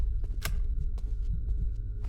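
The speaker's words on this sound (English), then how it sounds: "I heard a heartbeat." Low thumping heartbeat from the Fortnite horror map Phantom Investigation, a dull rhythmic throb repeating under a steady hum and faint game ambience, with no one talking.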